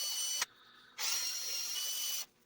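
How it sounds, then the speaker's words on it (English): Power drill sanding the rough outside of a cherry burl nut bowl, two close, steady whining bursts separated by a short pause, the second run lasting longer before cutting off. "Then I just used a drill to sand all those little chunks down flush,"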